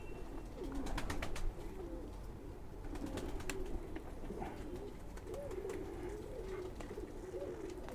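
Male Khaki pigeons coo softly and repeatedly in low, rolling calls against a faint background of clicks and rustling, fairly quiet and steady.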